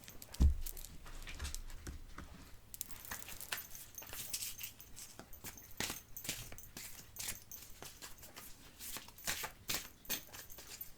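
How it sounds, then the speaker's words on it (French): Tarot cards laid out one by one and covered on a table, soft flicks and light slaps repeating irregularly at close range, quiet and without talk. "Je vais recouvrir quelques cartes"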